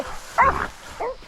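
Hunting dogs in a hillside rainforest give two short barks, one sharper and louder, the second fainter, amid outdoor background noise.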